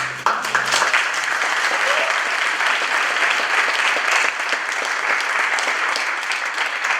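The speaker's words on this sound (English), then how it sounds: "let's give a big round of applause to Josephine and her amazing artwork." A room full of people at a lunchtime gathering breaks into dense, sustained applause that holds steady and loud for about seven seconds without letting up.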